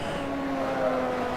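A BMW race car engine howls at Sebring, a steady, sustained mechanical drone with a rising tone at moderate distance, without commentary over it.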